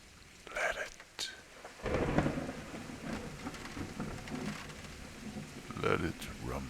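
Thunder rumbles and crashes amid steady rain during a nighttime thunderstorm, with a loud broad roll near the start and further booms later, the rain hiss continuing underneath throughout.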